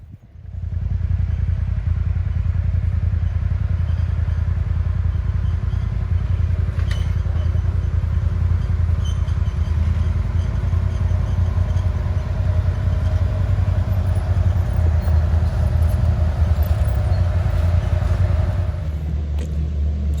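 Rescue squad UTVs drive off-road, one engine rumbling loud and close with a steady low-pitched drone and some clatter for about twenty seconds before it eases off at the end.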